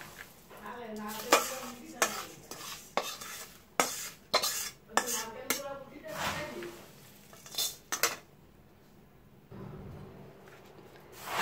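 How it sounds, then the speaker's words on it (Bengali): Puffed rice tossed with fried spice masala in a pan, a spoon scraping and clinking against metal in quick irregular strokes with dry rustling, fairly close, then a brief quiet stretch before a final scrape. "দিয়ে দেখো ভালোভাবে মিক্স করছি একবারে"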